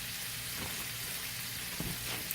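Spinach and garlic sizzle in a pan with browned Italian sausage, a steady close, moderately loud hiss of frying with a few soft stirring clicks and no talk.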